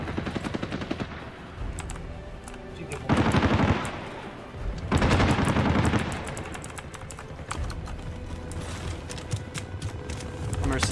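Bursts of automatic gunfire from the battle royale shooter Warzone in a duos match, with loud rapid volleys around three and five seconds and scattered shots and clicks throughout, while a player talks over the action.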